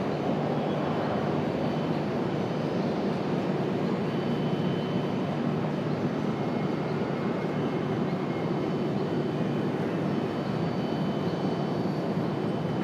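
An American Airlines jet taking off from runway 23 right at Raleigh-Durham International Airport, a loud, steady broadband engine roar that holds throughout without pause.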